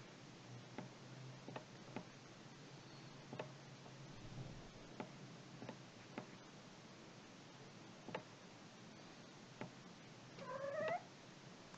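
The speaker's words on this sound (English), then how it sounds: "here's my cat." A pet cat near a computer gives a short, faint rising meow late in the clip against a steady quiet room hiss, with scattered light ticks and clicks throughout and no one speaking.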